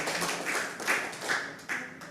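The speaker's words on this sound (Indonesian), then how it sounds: "Ayo tepuk tangan dulu meskipun tidak kedengaran." Clapping at a church Easter service, a handful of irregular claps and taps over a dull roomy background, moderately faint with no clear talk.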